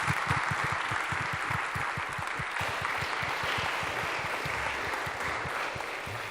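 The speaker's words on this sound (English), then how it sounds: "if everyone can give them a round of applause." Applause from a conference audience thanking a panel before lunch, a steady patter of many hands clapping at once, moderately loud and sustained throughout, with no voices over it.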